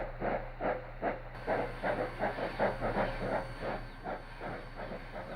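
A Southern Pacific steam cab forward locomotive chuffs steadily, rhythmic exhaust beats about twice a second over a hissing steam background, moderately distant.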